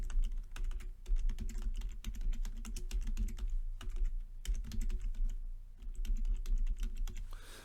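Fast typing on a computer keyboard, close and steady, with continuous keystroke clicks and only brief pauses.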